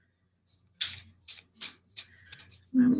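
A deck of romance angel cards is shuffled in a series of quick papery riffles and slaps, about seven short bursts in a row, close by and otherwise quiet, ending with a brief voice.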